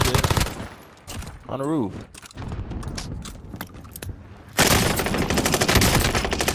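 Rapid automatic gunfire from an MP40 in Call of Duty Vanguard Warzone on Rebirth Island: loud, dense bursts of shots that build into sustained firing, with excited player voices talking over the opening moments.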